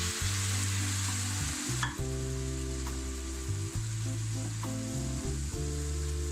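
Ground tomatoes go into a pan of sizzling vegetables for spicy namkeen vegetable seviyan, and a loud, steady frying hiss carries through the clip with a few soft stirring scrapes and clatters. No one speaks.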